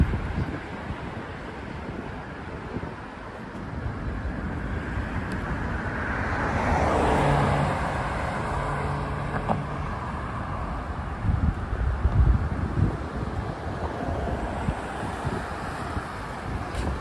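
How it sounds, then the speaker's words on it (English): Strong wind after Hurricane Ian in Miami roars steadily as a broad, loud outdoor rush, swelling around the middle and with gusty buffeting against the microphone throughout. "as the wind is subsiding a bit."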